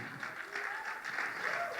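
A church congregation cheers and applauds, the crowd noise a faint, distant wash of clapping and voices throughout.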